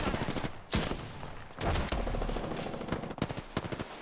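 Apex Legends gunfire during a squad firefight: close bursts of rapid automatic shots stop and start over four seconds, some louder volleys standing out against the rest.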